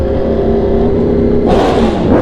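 A beautiful Italian motorcycle engine revs hard in first gear, a loud, close, continuous roar that climbs sharply in pitch around the midpoint, with no talking.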